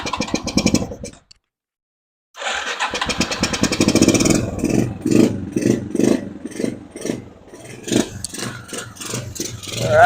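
A 1986 Suzuki quad kept in storage for 30 years sputters, cuts out briefly, then catches and runs with a rough, uneven idle and bursts of throttle, loud and nearby.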